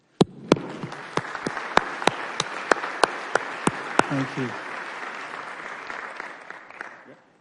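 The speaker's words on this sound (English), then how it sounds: "We're going to give you a round of applause." Applause from the audience at an Irvine city council meeting, a steady wash of clapping with a few sharp louder claps near the start, fading out after about seven seconds, with a brief thank-you spoken early on.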